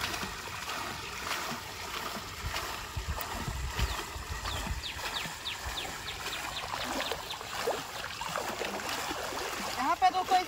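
The paddle plate of a water-going bicycle pushes through water, giving uneven splashing and trickling strokes that grow busier toward the end, with a voice talking faintly over them.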